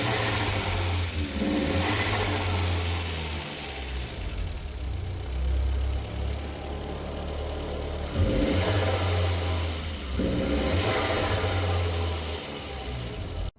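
An Audi A3 8L 1.8T engine with a newly reinstalled gearbox mount starts and revs close by, idling between several sharp rises and falls in engine speed.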